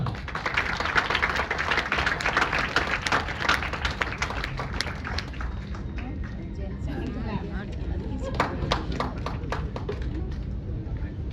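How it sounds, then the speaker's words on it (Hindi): Audience applause at a clean-city community event, dense clapping from a seated crowd that runs for several seconds, thins out midway, then returns in scattered claps while a voice talks over it. "जोरदार तालियां एक बार प्रशांत जी के लिए"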